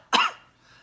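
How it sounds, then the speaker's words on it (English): A single short, sharp human cough, close and alone, with a brief breathy tail. "that's what we mean when we say a cough"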